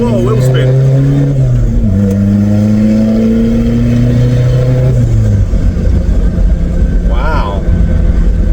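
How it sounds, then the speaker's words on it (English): A VW Passat TDI with a new turbo accelerates hard, engine note climbing through a gear change before fading off, with wheel spin and excited voices over the loud run. "Whoa, wheel spin."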